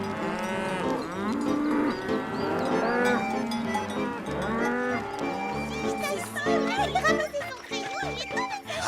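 Cattle moo repeatedly, several animals calling nearby in long drawn-out lows, with a voice mixed in.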